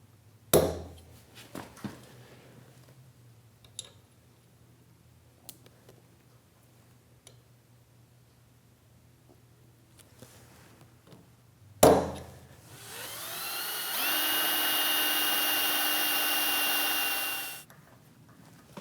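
A power drill drills holes in cast iron on a PM-940 milling machine, whining steadily for a few seconds after some scattered ticks and clatter, loud and close, then winds down.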